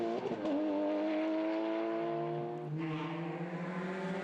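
A Porsche rally car on a stage of the Belgian rally championship at Spa, its engine note rising and holding steady with a brief gear change, heard loud and near.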